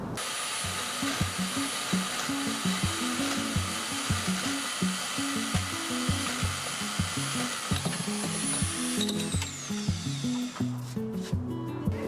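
Power tool cutting a metal part for a homemade go-kart shifter, a steady loud whine running continuously for about nine seconds before winding down near the end.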